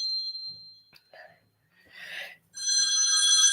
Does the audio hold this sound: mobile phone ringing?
yes